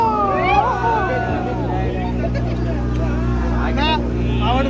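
A crowded boat motors along off Baga Beach in Goa, its engine droning steadily under loud excited chatter and shrieks from passengers.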